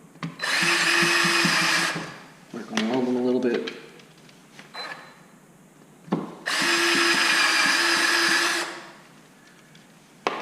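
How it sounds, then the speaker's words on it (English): A power drill bores holes into a CRF250L motorcycle airbox cover in two loud, steady whining bursts, each about two seconds, with quieter clicks and handling noise between them and someone speaking in the gaps. "I'm going to switch to the larger drill"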